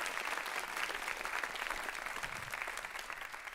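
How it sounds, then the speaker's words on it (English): A graduation-ceremony audience applauds for two students, dense even clapping from many hands that holds steady and tapers slightly toward the end, with no talking over it. "Give them a round of applause."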